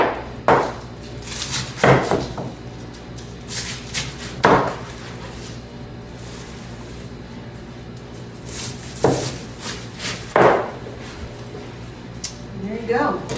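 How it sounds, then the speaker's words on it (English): A knife slicing cabbage thinly on a cutting board for sauerkraut, giving close, sharp chopping strokes in irregular bursts separated by pauses, over a low background hum. "I like to make a pretty thin kraut, and so thin slices are nice with this, and you just go ahead and cut."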